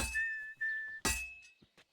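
A character in Kingdom Come Deliverance 2 whistles sustained tones while hammering at a forge, with sharp metallic strikes cutting in between the whistled notes, heard quietly and close.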